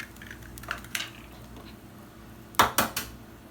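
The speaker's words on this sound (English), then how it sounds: "Okay, so we're cracking those eggs open" Eggs cracked open against a pan, with sharp knocks and shell cracks, first softer taps and then a quick cluster of three crisp raps near the end, close up with no talking.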